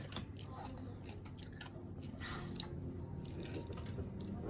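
Close, steady chewing and squishy biting of Chinese dumplings and Korean-style cucumber salad, a soft continuous mouth noise over low room hum with occasional small crunchy clicks.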